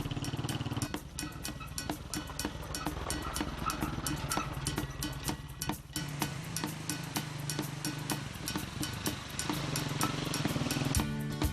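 A small motorized tricycle rattles along a bumpy, winding dirt road, its engine droning steadily and close with continuous clattering jolts and thumps from the rough surface.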